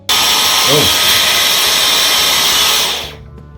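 A loud Dyson V11 cordless vacuum motor whines at high pitch while picking up cornflakes, holding steady for about three seconds before spinning down abruptly to near silence.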